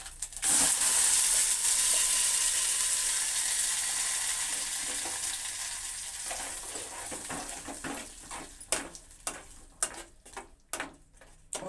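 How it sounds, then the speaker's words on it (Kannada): Spice tempering sizzling in hot oil for an idli chutney, a steady dense frying hiss that fades gradually, followed by sharper crackles and pops toward the end; no talking. "ಒಗ್ಗರಣೆ ಮಾಡಿದ್ದೀನಿ."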